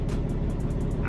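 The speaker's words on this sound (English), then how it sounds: "this truck just started up next to me" A box truck engine idles close by after starting up, a steady loud low rumble filling the whole second with a faint periodic ticking above it.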